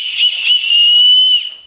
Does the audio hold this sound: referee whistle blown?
yes